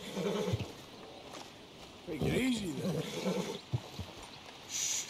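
A horse in Red Dead Redemption 2 whinnies near a stable in a soft, wavering call midway through. A few hoof knocks and faint ambient sounds surround it, and no one speaks.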